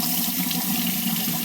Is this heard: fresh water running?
yes